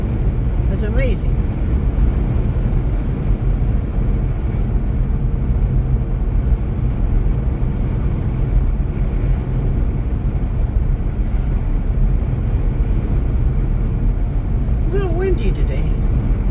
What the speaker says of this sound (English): Not bad, but just a little windy. Yeah. I can hear it hitting the truck.